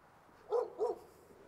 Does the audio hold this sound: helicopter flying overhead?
no